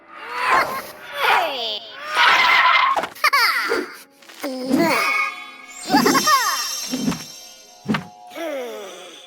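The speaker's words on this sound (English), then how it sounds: "The sound effects when he's flying through the air, and then when he slides in and stops with the screech of a tire sound effect" Cartoonish sound effects from the Gingerbread Warden selection animation in Clash of Clans: a string of whooshes, thunks, jingles and chimes as the hero flies through the air, then a tire-screech skid as he slides to a stop, clear and busy throughout.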